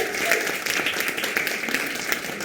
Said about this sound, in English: Please give a warm round of applause for India.